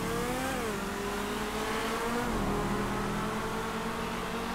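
Race cars in Grand Theft Auto V, engines droning loud and steady with rising and falling pitch as they accelerate and shift, continuous with no voices.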